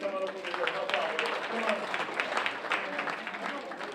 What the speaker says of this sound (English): Let's give the two of them a round of applause as they come on up over here